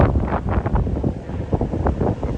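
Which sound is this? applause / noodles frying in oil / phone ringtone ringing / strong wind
strong wind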